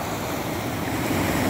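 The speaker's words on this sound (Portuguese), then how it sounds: "olha a força da água. Olha aí, caindo a força da água nesta manhã de" Strong water pouring from a reservoir dam spillway on a spring morning, a dense continuous broadband roar that stays loud and steady throughout with no talk over it.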